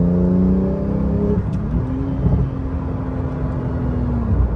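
A Porsche GT2RS accelerates hard in third gear on turbo boost, a loud steady engine roar and whir from inside the car that shifts pitch partway through, with no voices.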